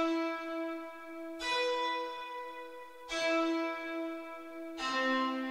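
The Nexus GT FM Guitar 4 preset runs through RC20 Retro Color and full reverb, giving a washed, bell-like plucked melody with a hazy, lo-fi tone. Accented strikes come roughly every 1.7 seconds and smear into long reverberant tails.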